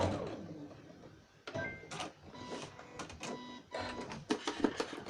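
A sewing machine back stitches a makeup bag in short whirring, rattling bursts separated by brief pauses, close and moderately loud in a quiet room.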